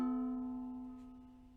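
A ukulele chord is strummed once and left ringing, a bright, sustained tone that fades slowly over about a second and a half, close and alone.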